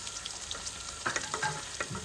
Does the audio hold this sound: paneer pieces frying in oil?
yes